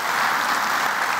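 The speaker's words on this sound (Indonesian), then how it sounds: "Kita kasih tepuk tangan dan sambutan." Brief burst of studio audience applause on an Indonesian talk show, dense and steady clapping with no voices over it.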